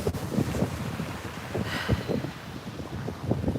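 Outdoor wind buffets a microphone at a knitting and crochet podcast recording, a continuous low rumbling gusty roar with uneven surges and no speech over it.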